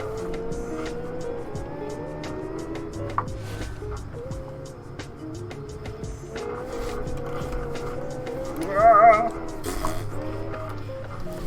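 Racing car in a Nürburgring video game, its engine droning and shifting pitch throughout, with a brief louder tyre squeal as nitrous spins the tyres near the end, while a person talks over it.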